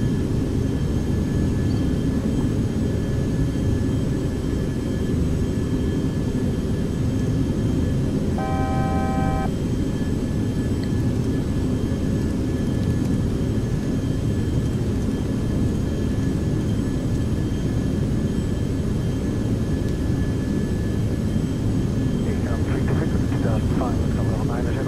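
Beechcraft Premier business jet engine in a flight simulator game, a steady broadband whine and rumble running throughout at constant level, with a brief tonal chime partway through and people talking over it.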